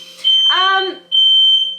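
An electronic kitchen timer beeps in two loud, sustained high-pitched tones while sausages cook, with a voice speaking between the beeps.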